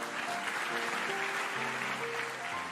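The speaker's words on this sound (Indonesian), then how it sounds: "Yang percaya kasih tepuk tangan untuk Tuhan." Applause from a church congregation at a sermon, a sustained, even wash of clapping heard over soft held keyboard or organ notes in the background.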